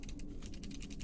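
The switch in the strum bar of a custom Kramer Guitar Hero controller is clicked rapidly and repeatedly, producing sharp close plastic ticks in a quick uneven rhythm over a low background hum, with no talking.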